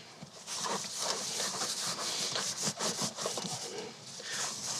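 Hands rubbing seasoning onto raw pork ribs, a steady run of close, soft rubbing and slapping strokes with an uneven rhythm, with no talking.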